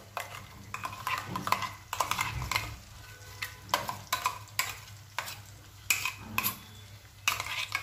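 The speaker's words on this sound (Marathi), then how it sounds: "चमच्याने आपल्याला व्यवस्थित मिक्स करून घ्यायचं आहे" A spoon stirs ground masala paste into a cashew curry in a pan, giving repeated close scraping and squelching strokes with a faint sizzle underneath and brief pauses between strokes.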